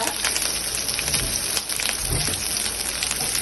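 A steady, loud crackling hiss of mustard seeds and curry leaves spluttering in hot oil in a clay pot for mango curry, dense and continuous throughout.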